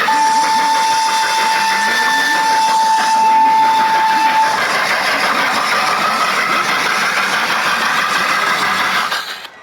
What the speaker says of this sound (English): Hear that train whistle.